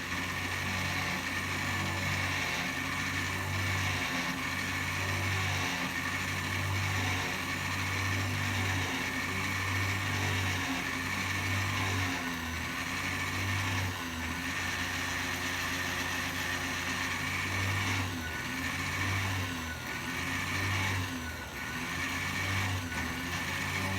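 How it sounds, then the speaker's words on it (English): A small sewing machine motor drives a drill into a locomotive boiler held in a jig, a steady whirring hum with a rhythmic pulsing that dips and strains under load, close and continuous. "You can hear the little sewing machine motor bog down a little bit as I'm drilling."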